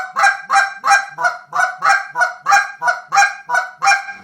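Rapid double clucks on a short reed goose call, imitating Canada geese: about eleven sharp, honking pulses in a steady, driving rhythm, close and loud, with no talking.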